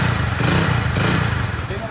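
A Hero Splendor motorcycle engine runs steadily at a smooth, even idle, close by and loud, with no pauses.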